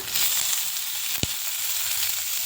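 Onion and two green chillies frying in a pan, a steady bright close sizzle throughout with a single sharp knock from a utensil midway.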